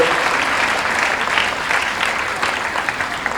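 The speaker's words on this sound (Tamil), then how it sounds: "அந்த குழந்தைகளுக்கு மீண்டும் ஒரு அரங்க நிறைந்த கைத்தட்டலை கொடுத்து" A full hall claps for a group of children after they sing the Tamil Thai Vazhthu at a college event, dense and steady applause throughout.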